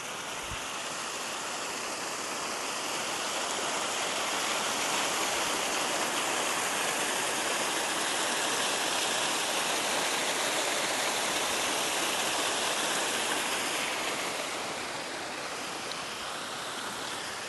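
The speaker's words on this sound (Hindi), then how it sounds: "एक और पानी का चश्मा।" Fresh spring water fed by melting mountain snow gushes steadily in the Swiss Alps near Siviez Nendaz, a close, constant rushing and splashing flow with no voices.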